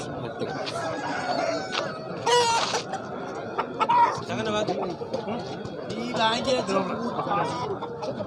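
Roosters and hens at a busy village rooster market, their clucks and crows mixed with constant nearby chatter from buyers and sellers.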